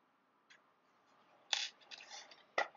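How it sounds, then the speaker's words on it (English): Scissors snip crochet thread close by: a faint small click, then two sharp cuts separated by quiet, with no talking. "and then snip off the thread"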